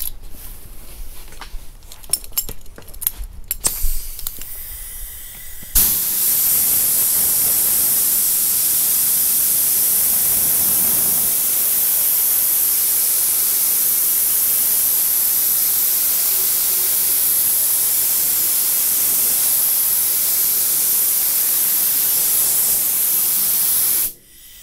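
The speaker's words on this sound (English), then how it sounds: "We'll cut the air on and blow it off so it'll dry a lot faster." A compressed air hose blasts steadily across freshly flow-coated car clear coat, a loud continuous hiss that bursts on after a few seconds of handling noise and holds for nearly twenty seconds before cutting off.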